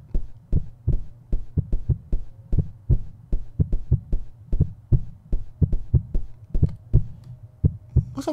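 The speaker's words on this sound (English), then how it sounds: "And there's a heartbeat." Heartbeat in the PC horror game Good Boy, a steady low double-thump pulse repeating throughout, loud and close with nothing else over it.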